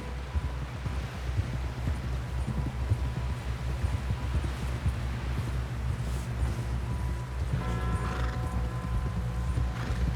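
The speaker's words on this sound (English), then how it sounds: "Someone help John down off this horse" Horse hooves clip-clop steadily in the Red Dead Redemption 2 video game, a continuous rhythmic trot over a low rumbling bed of game ambience, with faint creaks and a brighter tonal layer entering near the end.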